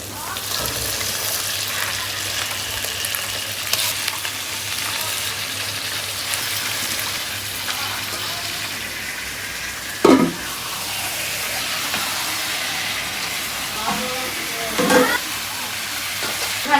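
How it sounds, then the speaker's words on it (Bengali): A spice paste is sautéed in a pan with a continuous close sizzle, broken by a couple of sharp scraping clinks of a spoon against the pan. "মশলাটা এখন ভালোভাবে কষাতে হবে এই যে আমার মশলাটা হচ্ছে কষানো হয়ে গেছে"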